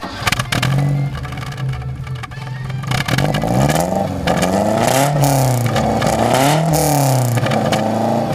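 A 1960 Alfa Romeo Giulietta Spider engine with carburetors runs close by, revving up and down in several swells, with a rough, throaty, busy mechanical tone.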